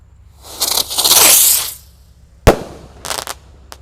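A ski cruiser firework is lit and goes off: a rising fizzing whoosh for about a second, then a sharp loud bang followed by two quicker crackling pops, all close and without talk.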